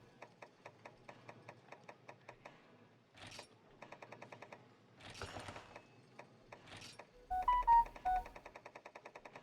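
Rapid rhythmic electronic ticking runs through most of the stretch, broken by short noise bursts, and a few clear beeps from a phone rise near the end, soft and close, with no speech.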